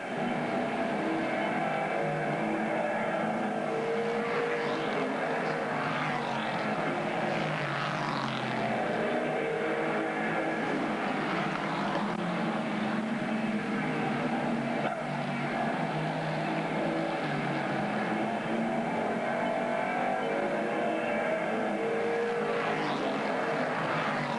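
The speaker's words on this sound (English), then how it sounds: "And Ken McElroy running 6th in the 0 car." Race cars lapping a track in an August 1987 race, a continuous loud engine roar that swells and fades as cars pass, with no talk heard.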